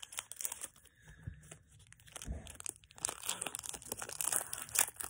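Scissors snip open a Pokémon trading card pack, giving crinkly foil tearing and crunching bursts with short pauses, close and fairly quiet.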